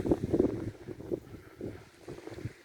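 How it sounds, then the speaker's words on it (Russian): Strong wind buffets the microphone on a rocky seashore with a sloping bank, gusting in uneven bursts that rise and fall over a low rumble of open water. "сегодня ветер, конечно, такой, что тут не высидишь и не выстоишь"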